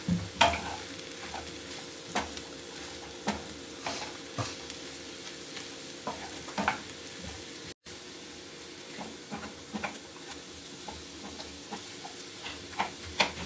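Vegetables soften and fry in a pan for a turkey leftovers casserole, a steady low sizzle broken by regular spatula scrapes and clicks as they are stirred, with no voices.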